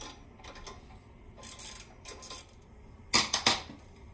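Ratchet wrench clicking in short bursts while loosening the bolts on a Coleman CT200U minibike's front forks, using 14 and 16 sizes; soft intermittent ratcheting, with a louder, sharper cluster of clicks near the end.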